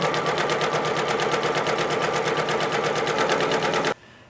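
A sewing machine runs a quarter-inch seam on a fitted baby crib sheet with a steady, fast, even rhythmic stitching chatter up close, then stops abruptly near the end.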